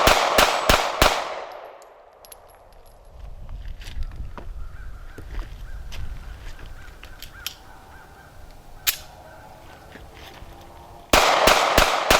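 A Smith & Wesson Bodyguard .380 pistol fires four sharp, rapid shots that echo and decay into outdoor ambience, followed after a long pause by another quick volley of loud cracks at the end.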